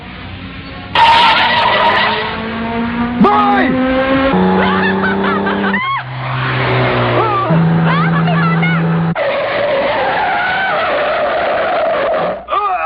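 Cartoon car skidding on a road with squealing tires and a hit on a person, with a shout and busy animated sound around it; loud, continuous, with speech over parts.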